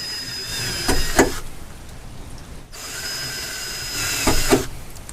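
Power drill boring holes with a 13/64 drill bit during a hood strut lift modification, two short whining bursts of drilling with clunks at each start, separated by a quieter pause, fairly close and without talk.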